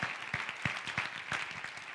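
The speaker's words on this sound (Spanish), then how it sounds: "Denle un aplauso al Señor" A church congregation claps during a sermon, a fairly soft patter of distinct hand claps with a loose, uneven rhythm in a reverberant room.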